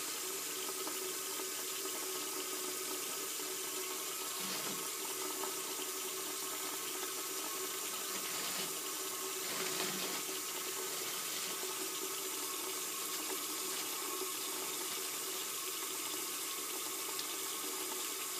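Water runs steadily from a sink faucet at a handwashing basin, a continuous hiss with a couple of faint clunks partway through and no speech.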